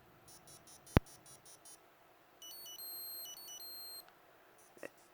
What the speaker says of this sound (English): You could hear the sounds just through this little beeper here as I play an alarm.